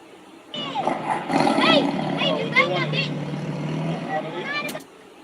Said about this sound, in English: I'm adding this roar. Let's see what it sounds like.